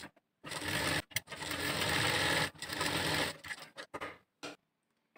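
A sewing machine stitches a facing strip onto a blouse, a close, loud continuous whir in two long runs broken by brief stops, then a few short bursts before falling quiet.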